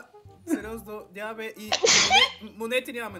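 One sharp, loud sneeze bursts out between stretches of excited talk during Minecraft gameplay commentary, close to the microphone.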